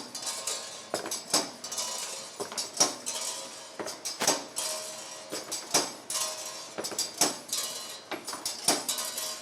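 Spoke-cutting machine trimming motorcycle wheel spokes to length in a wheel-building factory, giving a rapid series of sharp metallic clacks and snips with an irregular rhythm, close and fairly loud.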